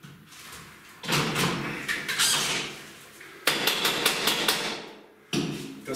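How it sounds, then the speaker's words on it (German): A cordless screwdriver drives screws through plasterboard into a metal ceiling frame, giving two loud whirring bursts of a few seconds each, close by, with a short third burst at the end. "Schrauber."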